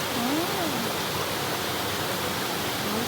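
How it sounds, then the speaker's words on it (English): Steady broadband roar of the Mallyan Spout waterfall in Goathland, England, continuous and close, with a faint whistling tone briefly sliding above it near the start. "You can jump in it. It's waterfall"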